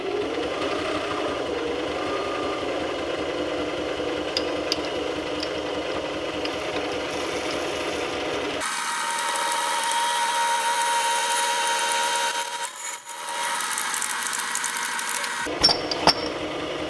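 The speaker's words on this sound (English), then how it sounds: "right now I'm setting up the drill chuck, which is going to drill the concentric holes inside of the peg." A lathe fitted with a drill chuck bores concentric holes into a scooter peg. The machine whirs steadily, then shifts to a harsher grinding tone partway through, with a brief dip and a few clicks near the end.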